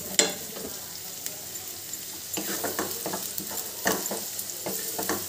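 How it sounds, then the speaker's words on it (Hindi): Finely chopped onion frying in a pan with a crackling sizzle, broken by bursts of stirring and scraping, close and with no talk. "1 बड़े साइज़ का प्याज, बारीक चॉप किया हुआ। थोड़ा सा हम इसे भी फ्राई कर लेंगे हल्का सा।"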